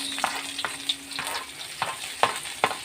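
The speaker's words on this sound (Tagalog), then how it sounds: "we're going to saute our garlic and onions" Garlic and onions sautéing in a pan for spaghetti, with several short stirring scrapes and light sizzling; moderately loud and close, no talking.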